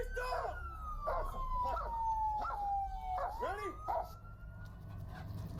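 A police dog barks in a rapid run of sharp, loud barks under a wailing police siren that slowly falls in pitch, with faint voices in the background.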